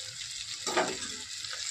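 Ginger garlic paste hits hot oil in a pan, giving a close, continuous hiss with a brief louder burst of sizzle partway through, alone without talk.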